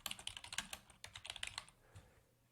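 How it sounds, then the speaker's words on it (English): Typing on a computer keyboard, a quick run of close, crisp key clicks with a few scattered presses trailing off. "Actually, I'll just type it in."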